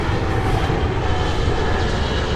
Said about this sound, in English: So, the neighbor's out flying his airplane again